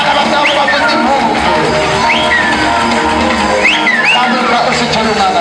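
A church congregation at a service cheers loudly, with high ululating trills rising repeatedly over a dense crowd roar and shouting, continuous and close throughout.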